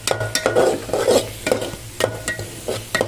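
Spices frying in oil for a chicken curry while a spoon stirs and scrapes the pan, giving a steady sizzle broken by regular sharp scraping clicks about every half second, close and clear.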